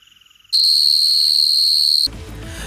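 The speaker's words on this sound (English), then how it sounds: "the Wasp will actually generate a noise that sounds very similar to insects at night" Insect-like buzzing drone of the Wasp robot enemy in the video game ARC Raiders, a loud steady high-pitched whine resembling crickets or locusts at night, starting abruptly and holding before cutting to a broader rumble.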